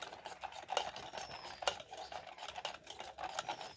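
A spoon or spatula stirs tutti frutti into a sugar-free ripe mango cake batter in a bowl, giving soft, quiet scraping and tapping strokes in a steady, irregular rhythm with no talk.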